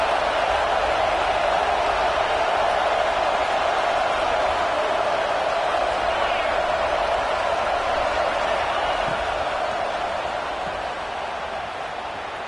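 A packed stadium crowd roars in a college football video game, Oklahoma at Ohio State, as a steady dense wash of cheering that stays loud throughout and eases slightly toward the end.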